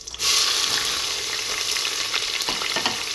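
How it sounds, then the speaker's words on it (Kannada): Onions hit hot oil with cloves and bay leaf for clove rice, a loud sudden hiss settling into a steady close sizzle with a few stirring scrapes toward the end, no voices. "ಈಗ ಈರುಳ್ಳಿ ಹಾಕ್ತಾಯಿದ್ದೀನಿ."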